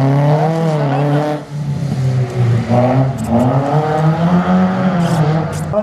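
Renault GT Turbo F2000 rally car at a slalom, its engine revving hard through rising and falling gear pulls, loud and close, with brief lifts between accelerations.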